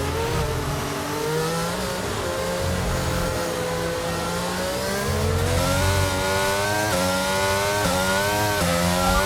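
An Audi race car engine in a racing video game revs up loudly and steadily, its pitch dropping and then climbing again through the gears as it accelerates back to speed.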